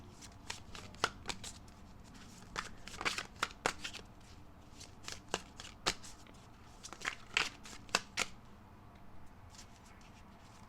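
Tarot cards shuffled by hand at close range, a quiet run of crisp irregular riffling snaps and slaps over a faint background hum.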